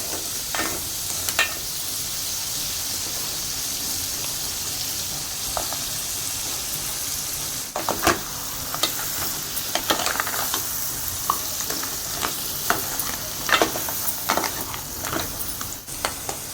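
Ground masala paste hits a pan of frying crab curry, giving a steady close sizzle with scattered sharp crackles and the scrape of stirring throughout.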